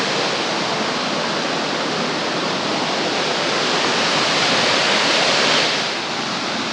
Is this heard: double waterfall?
yes